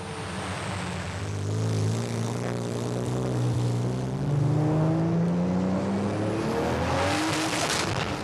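A tuned supercar making around 800 horsepower speeds through narrow neighbourhood streets in Dubai at night, its engine roaring loud and close, with revs climbing and falling in steady sweeps over several seconds.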